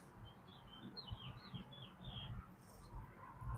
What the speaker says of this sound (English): It's like the chirping got louder when I said that.